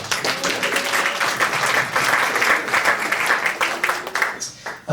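An audience applauds the curatorial team at an art-group gathering featuring a Hopi quilts show, with steady crowd clapping filling the room for several seconds before tapering off, a faint voice underneath.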